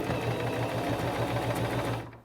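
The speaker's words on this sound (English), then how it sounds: "I'm just going to start sewing, and the idea is to keep turning the pants as you go" Singer Simple 2263 sewing machine stitching around a pant hem, a steady rapid mechanical whir with a fast even needle rhythm, close and continuous before stopping abruptly near the end.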